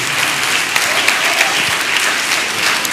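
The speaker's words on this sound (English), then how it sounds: "Give yourself another round of applause." Steady audience applause at a school championship medal ceremony, a dense sustained patter of many hands clapping throughout, fairly loud and even with a few sharper individual claps standing out.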